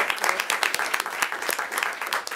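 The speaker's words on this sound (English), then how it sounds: "if we can do a quick round of applause" A brief round of applause at a library board meeting, scattered hand claps from a modest group, moderately loud and steady for a couple of seconds.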